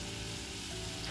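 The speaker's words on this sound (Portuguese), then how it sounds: "A gente deixa aqui fervendo ainda." Pudding caramel bubbling and sizzling steadily in a pan over low heat, a continuous close, even frying hiss with no talk.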